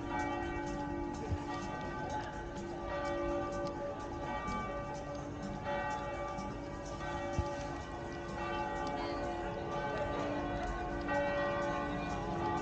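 Church bells ring out at noon from a tower in Rimini, Italy, a steady wash of overlapping tolling with sustained ringing tones, heard outdoors at moderate distance.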